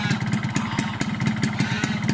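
A cold two-stroke motorcycle engine, running Pertalite fuel mixed with Valvoline 2T oil at 10 ml per liter, idles close up with a rapid, uneven popping exhaust beat.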